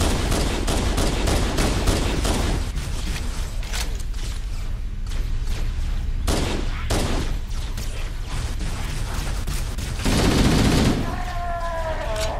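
Enemy gunfire in Halo: Combat Evolved, rapid repeated shots and bursts crackling throughout with mechanical clanks, loud and near, a short burst of noise near the end.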